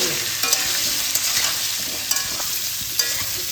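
Pumpkin and potato pieces fry in a pan with turmeric and salt over medium flame, a steady close sizzle broken by a few sharp spatula scrapes and stirs.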